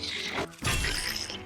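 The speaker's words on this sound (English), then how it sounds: "You'll know you got the correct parry if it sounds like this." A sharp metallic clang rings out, briefly cut off, then a bright shimmering impact with a lingering ring: a successful parry in The Legend of Zelda: Breath of the Wild.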